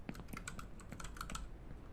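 Rapid, close keystrokes rattle on a computer keyboard in a steady two-second burst of crisp clicks, with no voices over them.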